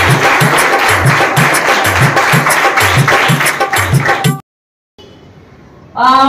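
Children in a quiz class clap for a classmate's correct answer, a brisk, rhythmic run of clapping for about four seconds that stops abruptly, followed by a pause and a voice.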